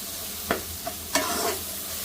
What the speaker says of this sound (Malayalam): ചേർത്തിണ്ട് നന്നായിട്ട് നടത്തി കൊടുക്കാം മസാല കരിഞ്ഞു പോകരുത്